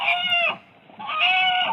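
Chickens cluck and squawk in two loud, bright bursts separated by a short pause, heard clearly with no talk over them.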